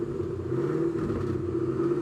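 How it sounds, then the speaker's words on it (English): A twin-turbo Ford Coyote V8 in a Mustang idles with a steady, deep rumble and swells slightly under light throttle, heard close and continuous with no talking. "Peter's gonna give it a little bit of throttle."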